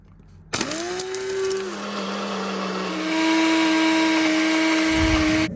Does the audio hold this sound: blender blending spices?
yes